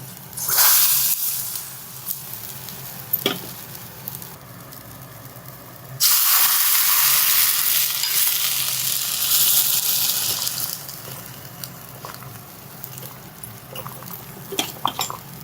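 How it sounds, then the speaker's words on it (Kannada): Hot tempering poured into boiling water for a gooseberry saaru sizzles in a brief hissing burst, then in a louder sustained hiss of several seconds that fades into a quiet simmer. "ಈ ಕುದಿಯುವ ನೀರಿಗೆ ನಾವು ಈ ಒಗ್ಗರಣೆಯನ್ನು ಹಾಕ್ಕೊಳ್ಳೋಣ"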